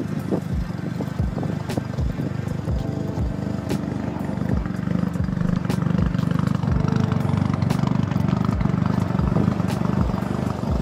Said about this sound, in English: The car's like idling, like it sounds really aggressive and stuff